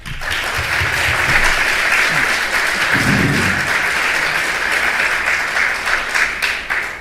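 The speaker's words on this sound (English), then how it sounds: "you can welcome them with a round of applause now" An audience at a San Diego city council candidate forum breaks into sustained, loud applause that holds steady for several seconds before tapering off.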